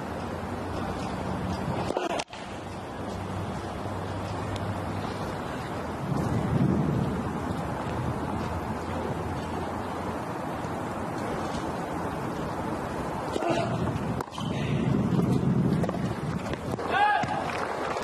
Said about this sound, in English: You could just hear the wind there picking up in our courtside microphones